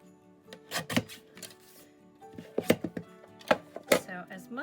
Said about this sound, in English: Then I would put it in my trimmer and cut off